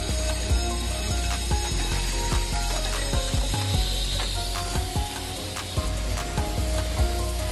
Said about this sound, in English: JM600 adopts double-end assembly processing and uses automatic feeder for connectors and terminal feeding